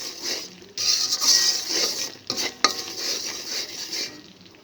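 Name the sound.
jaggery being stirred and melted in a pan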